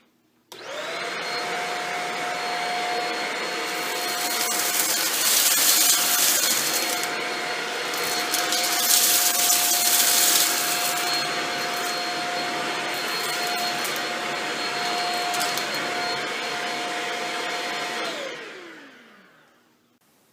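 A Shark Rocket Complete vacuum cleaner running on a tile floor, a steady loud whining motor hum with a spinning brush roll, switched on abruptly and winding down at the end, with no talking.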